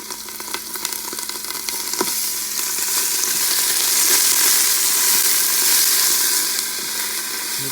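Ginger garlic paste stirred in a pan over low heat for a mutton curry, giving a steady close sizzle with soft scraping from the spoon that swells slightly midway and continues without pause.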